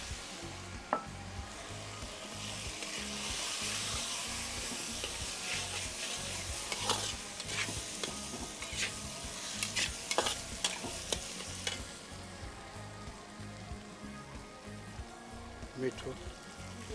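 Corn kernels tipped into hot oil with asafoetida, cumin and turmeric for chevdo, sizzling and being stirred steadily over low heat, with scraping clicks and a continuous frying hiss throughout.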